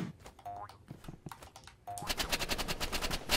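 Rapid automatic gunfire from the Roblox Rivals shooter game rattles off in quick bursts, then a steady burst of repeating shots, faint and clipped, with no talking over it.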